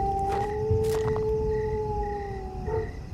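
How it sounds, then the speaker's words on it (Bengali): In a Bengali horror cartoon, jackals howl on a stormy night, a long sustained wavering tone holding steady for about three seconds against a rumbling windy background. "চারদিকে আবার শিয়ালের ডাকও শোনা যাচ্ছে।"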